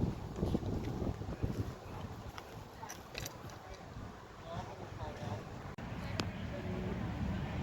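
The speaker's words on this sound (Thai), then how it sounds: "ลมแรงมากท่านผู้ชม" Strong wind gusts buffet the microphone outdoors at a Christmas tree festival with fresh flowers in Loei province, a continuous rough roar with scattered knocks and someone talking over it.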